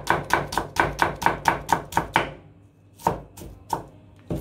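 Onion being chopped finely with a knife for homemade chickpea and zucchini croquettes, a rapid run of about ten crisp close board strikes, then a pause and a few scattered chops.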